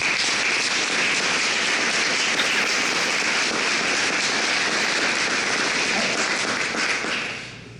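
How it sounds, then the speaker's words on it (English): A large audience gives a leadership team a loud, sustained round of applause, dense continuous clapping that holds steady before tapering off at the close. "we owe them a huge round of applause"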